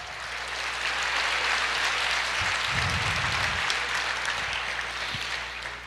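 A congregation at a church service applauds the Lord with steady, continuous clapping over a low electrical hum, holding even throughout with a few louder thumps near the middle.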